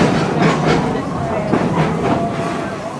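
A Busch Gardens park train rolls along in motion, its wheels clicking and rumbling steadily up close while voices talk over the ride.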